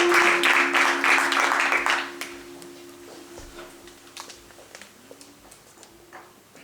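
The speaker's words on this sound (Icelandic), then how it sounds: "Gefum gott klapp." An audience at a 2012 spring cultural concert in Árborg gives loud, full applause that dies away after about two seconds, leaving scattered faint claps and room sounds.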